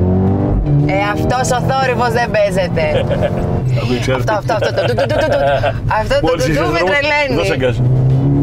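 A Mercedes-AMG A35 engine drones and revs steadily while the car is being driven, sitting under nearly continuous close talking from people inside the cabin.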